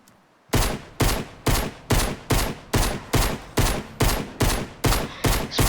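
Rapid pistol gunfire from the video game Fortnite: about a dozen loud, sharp shots in a steady, evenly spaced rhythm after a brief quiet start, each with a short decaying tail, close and alone with no talk.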